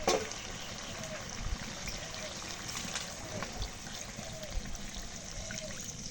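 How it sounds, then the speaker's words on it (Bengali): Water trickles and splashes steadily into a large pan of browned chicken, a continuous close-up pouring sound with faint clinks, no talking. "এখন জল দিয়ে দিই"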